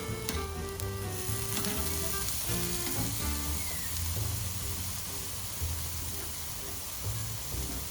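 Sausages and mushrooms sizzle steadily on a hot grill grate for a traditional English breakfast, a continuous loud crackling hiss with some clinking and stirring under a faint low hum.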